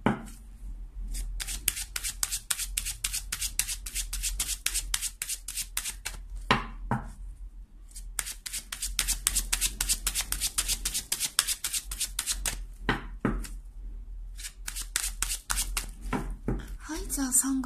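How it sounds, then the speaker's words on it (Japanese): Oracle or tarot cards are shuffled by hand for a fortune-telling reading, making a long run of quick, crisp riffling flutters up close with brief pauses between bursts. "じゃあカードをね、5枚出していきましょうか"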